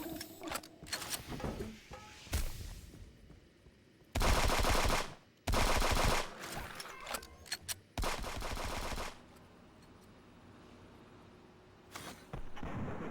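Double guns fire in a multiplayer video game in several loud, rapid bursts of automatic fire, each lasting a second or so, separated by quieter gaps with scattered clicks and shots.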